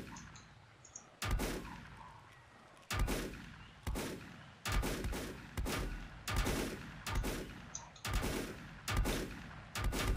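Enemies firing in the video game Volcanoids: a string of about eight loud, close gunshots in irregular bursts, each with a quick echoing decay, and no talking.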